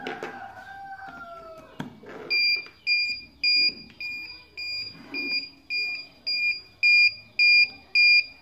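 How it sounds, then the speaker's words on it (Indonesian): A mini piezo buzzer, modified from continuous to intermittent, beeps in a steady series of short, shrill tones at regular intervals, loud and close. "maka buzzer akan berbunyi beep secara interval"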